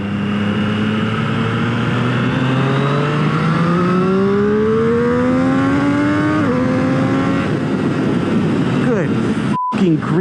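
A 2021 Triumph Street Triple R three-cylinder motorcycle accelerates hard, its engine rising loudly in pitch through the gears with a brief dip at a shift, heard up close from the rider's position with steady wind rush.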